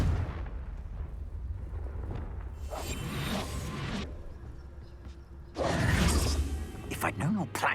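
A magical blasting spell explosion in a fantasy video game, with two loud whooshing bursts and rumbling blasts set against a low ambient rumble, each lasting about a second.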